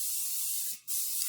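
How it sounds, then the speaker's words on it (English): An airbrush spray-tanning gun mists a client's hands, a steady soft hiss that breaks off for a split second and then resumes, close and fairly quiet with no talk. "we just do a really quick spray on the hands"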